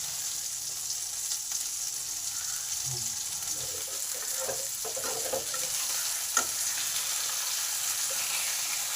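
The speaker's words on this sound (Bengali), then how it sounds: "এক সাইডটা মাছটা ভাজতে দিতে হবে" Fish frying in a pan for a Bengali lunch, a steady close sizzle that swells with bursts of crackling spatter partway through and a brief sharp tap, no talking.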